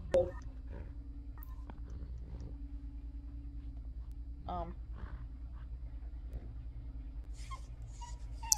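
A dog whimpers in a horror video game with a soft, brief, high-pitched whine. It sits faint against a low hum and other scattered game noises, and people may be talking alongside it.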